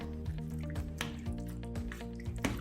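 Chicken marinade with buttermilk being stirred, giving soft wet squishing and dripping sounds, faint and close, with steady background music.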